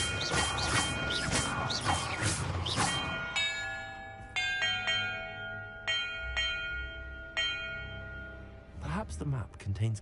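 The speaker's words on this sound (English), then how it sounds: "Perhaps the map contains clues about the order I'm supposed to ring the bells in." Bells are struck one by one in a Hogwarts Legacy puzzle, each clear chime ringing out and fading, following a stretch of talking at the start.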